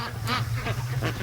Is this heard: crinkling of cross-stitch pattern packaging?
no